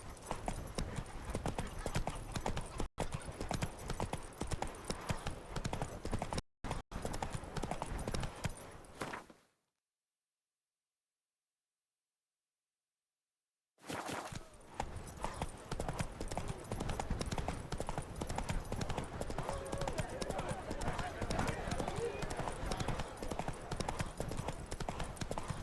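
Roach, the horse in The Witcher 3, gallops with loud, steady clip-clopping hooves that drop into a few seconds of silence, then resume just as busy and close.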